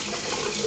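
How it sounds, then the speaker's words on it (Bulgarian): Running water streams steadily from a tap as a hand is washed beneath it, a continuous close splashing hiss with no voices. "Сега да си измия ръката."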